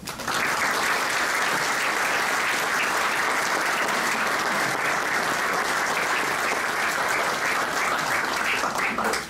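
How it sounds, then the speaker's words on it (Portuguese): Loud, sustained applause from the audience at a book launch honoring the Ribeira Grande volunteer firefighters' 150 years, dense and steady clapping filling the room with no voices over it. "peço uma enorme salva de palmas para os bombeiros da Ribeira Grande"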